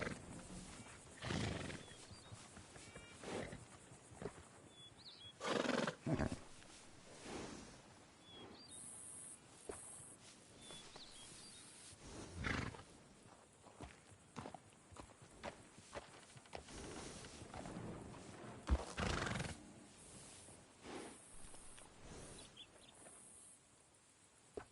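Horses in Red Dead Redemption 2, with faint neighs, soft hoof clops and footsteps over a quiet outdoor ambience with occasional birds, sparse and intermittent throughout.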